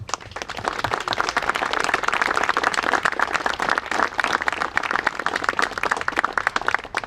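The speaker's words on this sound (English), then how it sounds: "And we just one more round of applause for both of our." A Veterans Day gathering's audience gives a round of applause, crisp individual claps densely overlapping, steady and close for the whole stretch, with no talking.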